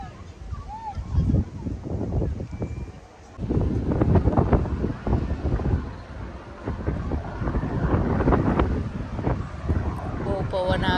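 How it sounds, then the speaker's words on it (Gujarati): Strong wind gusts across a boat at sea, buffeting the microphone in a continuous rough rumble that swells and dips, with voices partly buried beneath it. "બહુ પવન આવે."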